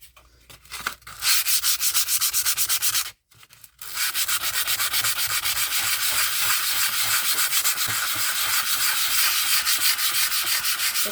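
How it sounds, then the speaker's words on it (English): Rapid, steady back-and-forth sanding rasps across a Mix2Mold ceramic resin Halloween pumpkin, loud and close, with one brief pause before the scrubbing resumes. "just to see if it will sand off"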